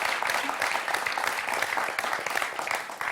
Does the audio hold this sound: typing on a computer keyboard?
no